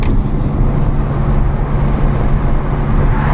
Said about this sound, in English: I enjoy my exhaust the most. Windows down, coming up on some trees to bounce some noise off of.